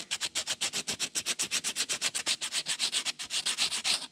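A bamboo arrow's self nock being sanded by hand, giving a fast, steady run of rhythmic rasping strokes, close and clear with no talking.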